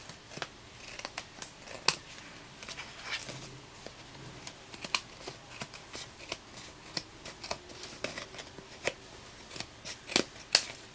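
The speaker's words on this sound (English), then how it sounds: "I'm just going to trim the edges with my paper snips" Paper snips trim the edges of a handmade Stampin' Up greeting card, giving a steady series of crisp, close snipping clicks at an irregular rhythm with no voices.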